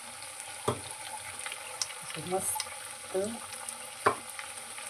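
Sabudana vada sizzle softly in hot oil with a steady low frying hiss, broken by a few clinks and stirring scrapes of a spoon in the pan, and brief talk.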